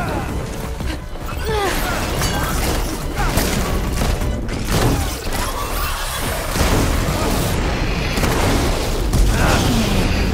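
Powerful arrow shots fire in Horizon Forbidden West, with repeated booms and bursting hits over dense mechanical clatter and rumbling game noise that keeps up throughout.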